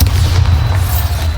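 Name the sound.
Bombarda spell explosion in the video game Hogwarts Legacy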